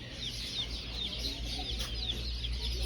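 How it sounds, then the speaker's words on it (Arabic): Chicks and chickens cheeping and clucking steadily inside a bird shop selling poultry, a dense continuous chorus of small bird calls with no talking. "هذا المكان هنا يبيعون كتاكيت"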